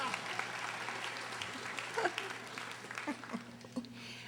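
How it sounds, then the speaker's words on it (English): Applause for a college president at an honors convocation, a soft, distant wash of clapping across a hall, with voices speaking over it throughout. "clap for the president and then wait for the rest."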